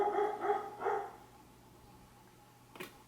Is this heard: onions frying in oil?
no